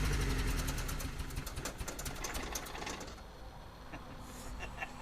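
A car engine runs steadily after a fuel pump replacement, with a rapid mechanical chatter that eases partway through as the throttle is released; a voice speaks briefly.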